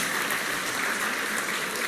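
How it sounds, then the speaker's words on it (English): Graduation-day audience at an engineering institute claps for the teachers, a steady, dense wash of applause from a large crowd with no talking over it. "So round round of applause for all the teachers"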